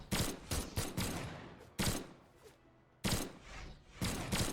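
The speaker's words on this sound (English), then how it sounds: "Dobrein is just completely destroying Exo right now with his guns." Gunfire sounds from the Brawlhalla fighting game come in several sharp bursts of rapid shots with short gaps between them, loud and punchy, with no talking.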